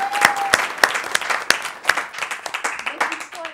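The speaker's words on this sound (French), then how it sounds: "Je vous demande un petit tonnerre d'applaudissements." Audience applause with a few distinct sharp claps standing out over a looser patter of hands, lasting a few seconds, with voices mixed in.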